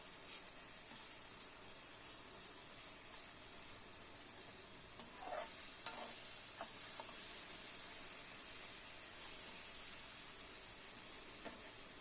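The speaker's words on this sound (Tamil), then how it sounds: "நல்லா வதங்குது." Vegetables sautéing in a pan for an eggplant and potato poriyal make a soft, steady sizzle with a few brief scrapes and clinks midway, fairly quiet and without talk.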